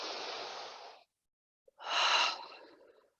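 Deep breathing during a cardio workout cool-down: a long, steady exhale, a pause of silence, then a strong inhale that fades away, close and clear with no talking.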